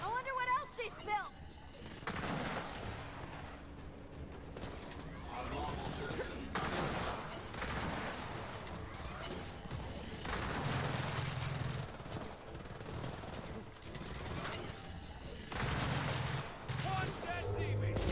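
Rapid bursts of sniper gunfire in Gears of War 4 crack and rumble through a dense battle mix, repeated volleys over a steady background of combat noise.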